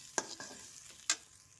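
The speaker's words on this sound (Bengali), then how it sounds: "গোবিন্দভোগ চালটাকে আমি একটু ঘি দিয়ে ভেজে নিচ্ছি।" Gobindobhog rice frying in ghee for payesh, stirred in a pan: a few sharp, close scrapes and clicks over a soft, steady sizzle, with no talking.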